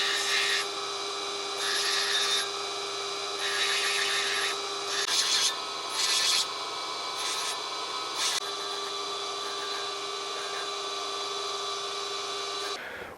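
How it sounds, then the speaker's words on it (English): An opal stone is ground on a lapidary grinder, the motor humming steadily while the stone rubs against the wheel in intermittent gritty bursts, close and continuous. "So we'll keep grinding."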